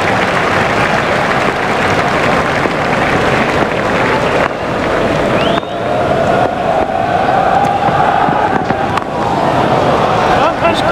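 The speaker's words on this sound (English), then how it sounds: "The crowd were brought to their feet by that shot." A stadium crowd roars and applauds in the cricket video game EA Sports Cricket 2004, a dense, loud, sustained wash of cheering under someone commentator's voice.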